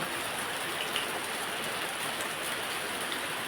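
Unseasonal winter rain falling steadily, an even close hiss of drops on surfaces that holds at a constant level with no talk.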